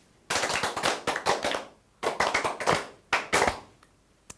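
A class of children clapping hands in rhythm, loud and close, in quick bursts that speed up and pause between groups of claps.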